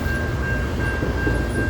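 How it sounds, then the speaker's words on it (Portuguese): A train pulls away from a station platform, a steady close rumble with a sustained high tone running through it. "o trem vai partindo"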